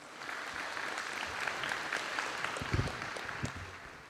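Applause for the speakers at a Brazilian no-till farming conference, a short burst of steady clapping from a small audience in a hall, moderately loud, with no talk over it.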